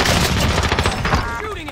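Rapid automatic gunfire in Call of Duty Warzone on Rebirth Island, a dense burst of loud, close shots that thins out toward the end.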